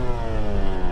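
Motorcycle engine pulling steadily in third gear on a road, a continuous loud mid-pitched drone with rich harmonics and a slight rise, close and alone with no talk.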